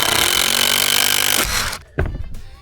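A power drill drives screws into a wooden stand for a reptile enclosure, a loud close whirring buzz that runs steadily and then stops, followed by a couple of short knocks.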